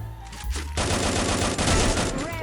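Rapid bursts of automatic fire from the Trogon gun in a shooter video game, loud and dense, hammering continuously for about two seconds after a brief lead-in.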